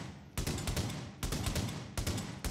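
Three loud shots from a semi-automatic sniper rifle in the video game The Division, fired at a steady pace, each a sharp crack followed by a short rumbling tail, close by.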